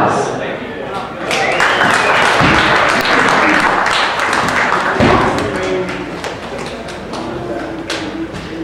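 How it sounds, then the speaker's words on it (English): Audience applause at a boxing event, dense clapping that swells and then thins out, mixed with thuds and voices in the crowd. "Please give her a round of applause."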